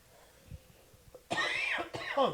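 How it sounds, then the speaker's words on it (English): A close, sharp cough bursts out twice in quick succession after a stretch of quiet murmuring in the background. "Nice cough right there."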